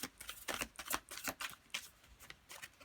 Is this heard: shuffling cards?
yes